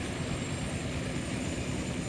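A Westland Scout or Wasp helicopter in a flight simulator game gives a steady, dense rotor and engine drone that holds constant and fills the scene without a break.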